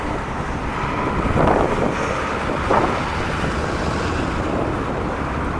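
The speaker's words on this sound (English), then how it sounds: "there's fucking wind here though" Strong east wind blowing outdoors, buffeting the microphone with a steady, loud, broadband roar that surges slightly in gusts, with no voices.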